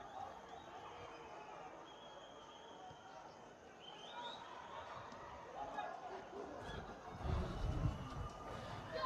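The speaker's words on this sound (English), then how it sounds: "But the crowd still agitated." Faint, distant murmur of an agitated football crowd in the stands during a fan brawl between Thimphu FC and Drukpa FC supporters, a low restless chatter that swells slightly toward the end under a commentator's voice.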